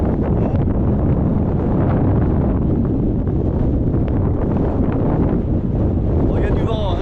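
Strong desert wind buffets the microphone in a steady, loud, unbroken roar for the whole stretch, with no pauses and no clear voices.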